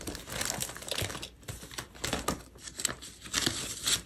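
A paper sticker is peeled off a sticker sheet close by, with crinkling and light tearing sounds in short bursts and no talking.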